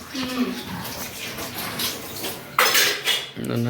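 Metal utensils and dishes clatter as they are set down in a home kitchen, with a loud clanking burst near the end and faint voices in the background.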